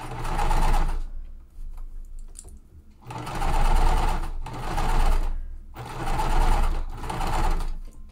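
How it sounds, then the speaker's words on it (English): A sewing machine stitching quilt seams at a slow, careful pace, running in three steady bursts of close mechanical whirring separated by short pauses. "So I'm just sewing nice and slow"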